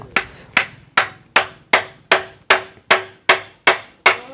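A hammer drives nails in eleven sharp, evenly spaced blows, each ringing briefly before the next. The strikes are close and loud, with no talking.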